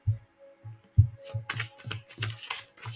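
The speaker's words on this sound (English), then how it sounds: "Let's pull some cards" Tarot cards are shuffled by hand in a series of crisp riffling bursts, close and fairly loud, set against soft low thumps from the deck.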